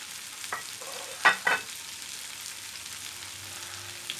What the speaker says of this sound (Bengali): আমরা একটু হালকা নাড়িয়ে নিব